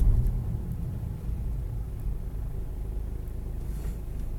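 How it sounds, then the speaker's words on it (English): Car at normal operating temperature braking hard from about 20 mph, a steady low rumble of engine and tires heard from inside the cabin, a brief louder thump at the start, then continuous road noise without talk. "I'm going to do a hard brake."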